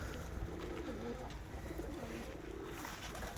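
Pigeons feeding in a backyard loft under windy, overcast skies, low cooing murmurs beneath steady wind noise, faint and continuous.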